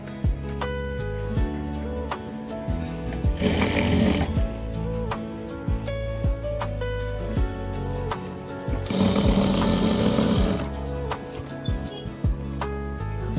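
A sewing machine stitches along a fabric cord for a blouse drawstring, running in two loud bursts of rapid rhythmic whirring with a continuous mechanical hum between them, close up.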